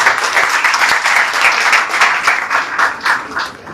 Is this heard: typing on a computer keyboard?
no